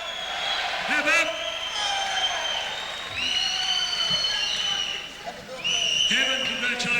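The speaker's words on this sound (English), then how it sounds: "3 cheers for Evan Themelakis. Have up! Have up! Have up!" A fight-night crowd at a kickboxing event sends up rhythmic cheering and applause, loud and reverberant, while an announcer's amplified voice carries over the noise.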